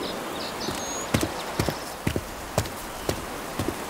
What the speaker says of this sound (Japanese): フットステップスでブーツをチョイスして、